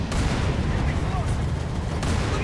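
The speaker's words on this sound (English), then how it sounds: "Let's go ahead and shoot them from here." Gunfire in the Halo 3 shooter game during the Ark mission, dense loud bursts of shots and blasts running steadily through the whole stretch.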